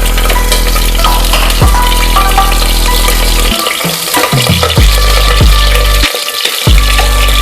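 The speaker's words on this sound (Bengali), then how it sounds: "তেল গরম হয়ে গেছে, এবার আমি প্রথমে ফুলকপিটা দিয়ে দিলাম" Cauliflower fries in hot mustard oil with a loud, dense sizzle, interrupted by several sharp scrapes and clatters of stirring and by brief quiet gaps.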